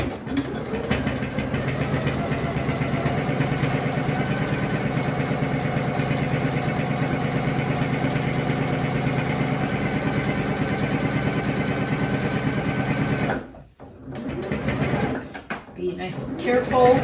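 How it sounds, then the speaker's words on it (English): A home sewing machine runs steadily while stitching a cloth face mask at a quarter-inch seam, a continuous mechanical whir under a speaking voice, stopping briefly near the end before starting up again. "we're gonna sew at 1/4 of an inch, and you're just enclosing this"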